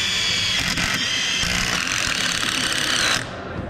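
A HART impact driver, tested in brushed and brushless versions, drives a fastener through a 4x6 wood beam with a loud, steady hammering rattle that runs continuously for about three seconds before stopping abruptly.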